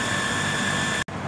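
An electric water pump motor runs on without stopping because of a faulty pressure switch, giving a loud, steady whirring drone with a high tonal whine and a brief cut near the end.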